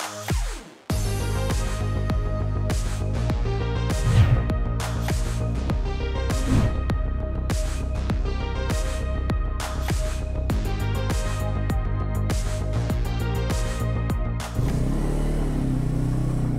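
A Bajaj Pulsar N250 motorcycle laps a kart track, its engine recorded up close as it revs hard again and again, with sharp gear-change breaks between climbing pulls and no voices.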